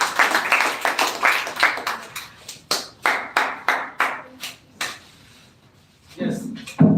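Audience clapping for a speaker in a classroom-style event, a series of loud, distinct rhythmic claps fading out, followed by quiet and then a voice starting to talk.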